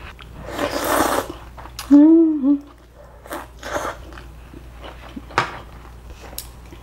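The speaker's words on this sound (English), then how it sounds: "Slurp all you want. That's how you eat it." Noodles with green onions, dipped in sauce, are slurped in a noisy, breathy burst near the start, with a voice speaking before and after and a few soft clinks.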